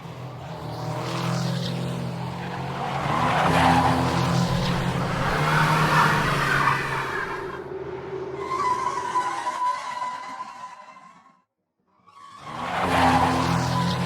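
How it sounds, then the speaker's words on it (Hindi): Stock tire screech effect for a drifting car, used in a music mix: sustained squealing tire noise with car engine roar, continuous and loud, cutting out briefly near the end before returning. "जो आपने स्क्रीच साउंड यूज किया हुआ है ड्रिफ्ट के लिए"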